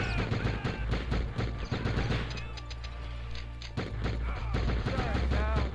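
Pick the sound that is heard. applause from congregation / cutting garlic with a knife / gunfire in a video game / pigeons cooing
gunfire in a video game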